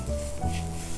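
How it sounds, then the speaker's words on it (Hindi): Saag of mustard greens, salted, fries in a hot pan with a brief, steady sizzle and a light stirring scrape, heard close up. "थोड़ा सा नमक डालकर हम इसे अच्छी तरह से भून लेंगे"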